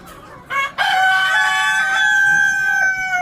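Adler breed chickens kept densely in a coop crow loudly and close by: a long, drawn-out rooster call rises after a brief squawk, with clucking in the background.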